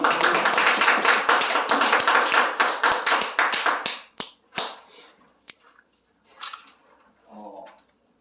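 Audience at a Korean interfaith religious gathering claps in a dense, sustained round of applause that thins into a few scattered claps and then stops, followed by brief quiet rustling and a murmur.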